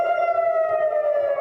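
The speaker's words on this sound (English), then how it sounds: "Air raid sirens sounded in Israel again today" An air raid siren sounding in Israel, a loud sustained wailing tone with rich harmonics holding steady throughout.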